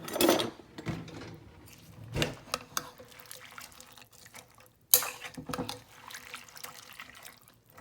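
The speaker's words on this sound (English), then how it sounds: "I'm going to, of course, give this a really good stir." A spoon stirs 15 bean soup in a crockpot, making wet sloshing, scraping and clinking sounds close up in irregular bursts.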